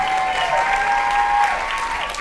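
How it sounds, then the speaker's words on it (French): An audience at a live Swingirls stage show breaks into a short, full burst of clapping, loud and even, lasting a couple of seconds. "on peut les applaudir aussi"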